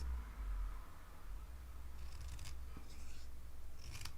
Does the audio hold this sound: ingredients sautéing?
no